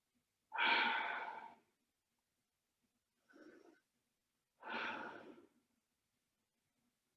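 Slow yoga breaths, a long, airy exhale close to the microphone, then a short quiet breath, then another long exhale, separated by silence.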